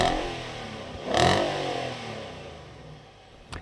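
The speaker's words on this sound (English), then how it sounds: "We'll cut to the exhaust now so you can hear what this thing sounds like sitting still and revving." A stationary Nissan Patrol's 5.6-litre V8 idles at the exhaust, then blips once in a short, loud rev around the middle. The note settles back to a steady rumble, and a brief sharp knock comes near the end.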